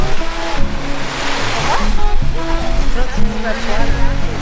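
Fresh mountain water gushes out and strikes a rock near Los Barriles in Baja, giving a loud, continuous broadband rush with people talking over it.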